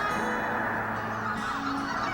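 Thousands of snow geese honk at Mud Lake, a wetland where they rest on their spring migration north. The dense flock calls continuously and steadily, with overlapping honks and no voices.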